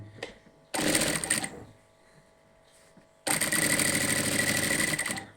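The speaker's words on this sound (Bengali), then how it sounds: "তা দেখুন আমি কিভাবে সেলাই করছি" Two loud close bursts of machine stitching on a nighty panel, a short run followed by a pause of quiet handling, then a longer steady run of rapid needle clatter.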